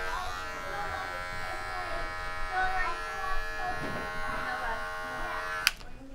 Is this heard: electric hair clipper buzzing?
yes